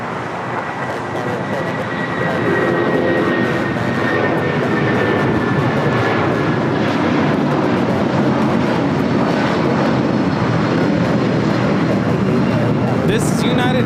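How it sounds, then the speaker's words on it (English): A United Airlines Boeing 757-200 bound for Newark roars down the runway on takeoff, its engine noise swelling after a couple of seconds into a loud, steady, close rumble with low voices beneath it. "1981 taking off to Newark on the 757-200."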